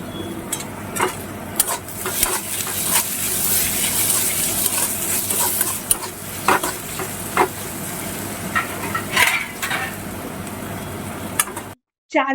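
Poha fries in a pan while it is stirred, with steady sizzling and repeated scraping and clinking of a spoon against the pan, ending in a short silence.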